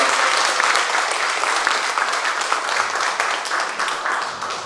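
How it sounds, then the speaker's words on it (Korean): A church congregation applauds during an anniversary and ordination service, loud, close, steady clapping that eases slightly toward the end. "우리 한번 박수로 하나님께 감사와 영광을 드리겠습니다"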